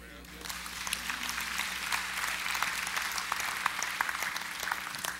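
An audience at a talk breaks into sustained applause, dense crackling clapping that builds quickly and holds steady, fairly distant and hall-like, with no voices over it.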